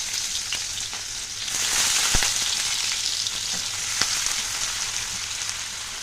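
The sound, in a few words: beans and carrots frying in oil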